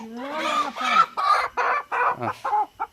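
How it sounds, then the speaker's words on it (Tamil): Chickens cluck close by in a quick run of about eight short, choppy calls that start strong and trail off into clipped notes. "சேவலை எடுக்கிறியா கோழியா கோழி கோழி"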